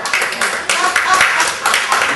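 Applause at a municipal council meeting in Juvignac, a burst of hand clapping that runs steadily through the whole moment, fairly close and loud.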